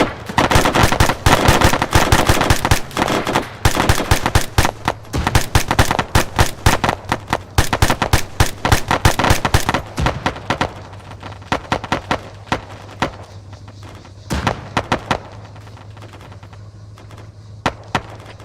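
Rapid bursts of gunfire crack out during a platoon ambush in the Arma 3 video game, loud and dense at first, then thinning to scattered shots over a low engine hum.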